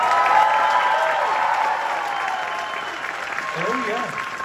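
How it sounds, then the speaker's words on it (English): A concert audience at a tribute show in Seattle applauds and cheers steadily, with a held musical tone ringing beneath and a few whistles near the end. "One more big cheer"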